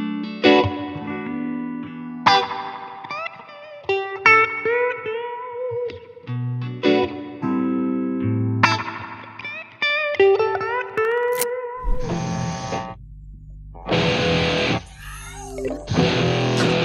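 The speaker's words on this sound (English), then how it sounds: "So I'm running through a Dunlop Crybaby Phasal Model 310, pressed about a third of the way down." Electric guitar played in a reggae style through a Dunlop Crybaby wah pedal parked about a third down, giving choppy chords and melodic phrases with a vocal, filtered tone, heavy effects, and a swelling processed passage near the end.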